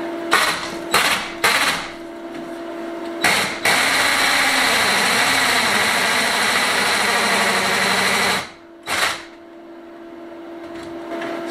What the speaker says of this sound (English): So I'll go and find my drill, see if we can make a hole in it.